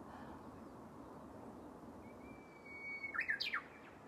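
A bird returning near a morning yoga session gives a thin, high whistle followed by a short burst of sharp, quick chirps, soft and unaccompanied over quiet background hiss.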